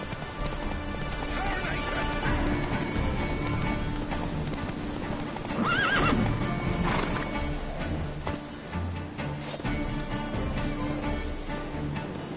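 Horse hooves clip-clopping steadily with a neigh midway, from the horse Roach in the video game The Witcher, mixed with dense ambient game sound and music throughout.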